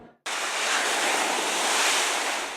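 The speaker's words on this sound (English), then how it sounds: "The sound of crashing waves in Malibu" Ocean waves crash on the Malibu shore in a broad, roaring wash of surf that starts abruptly and stays loud and steady, with some wind noise mixed in.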